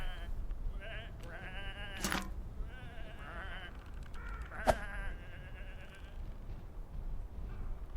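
Several sheep bleat in short wavering calls in the point-and-click video game Whateverland, some overlapping, over a faint background hum.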